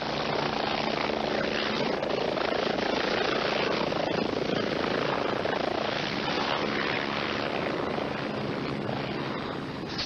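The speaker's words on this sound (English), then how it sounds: "Steve was airlifted to the trauma unit of McKay-D Hospital" A medical helicopter airlifting an injured state trooper in Idaho: a loud, continuous rotor thump and engine roar, steady throughout and close, with no other sounds standing out.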